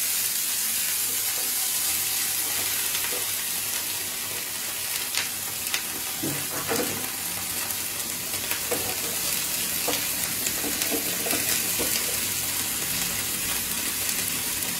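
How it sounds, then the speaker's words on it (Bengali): Onion sizzling in mustard oil in a hot frying pan, a steady loud crackle and hiss with occasional stirring clinks, close up and without talk. "গরম হয়ে গেছে, আমি পেঁয়াজটা ছেড়ে দিচ্ছি।"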